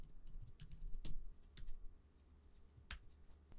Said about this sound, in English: and then type in the dimensions